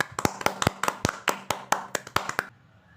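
A dozen or so sharp claps in a quick, fairly steady run, close and crisp, stopping abruptly near the end.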